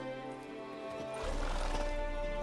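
In The Witcher 3 video game, a horse whinnies loudly and close, a drawn-out neigh that swells over a dense bed of game music and ambience.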